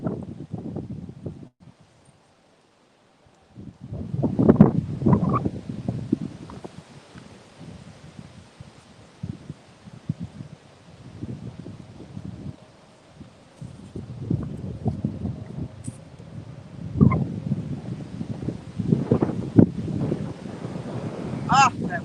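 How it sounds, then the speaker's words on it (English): Gusty wind buffets an outdoor microphone with low rumbling bursts that rise and fall irregularly, while someone speaks intermittently. "Ah, that wind is annoying."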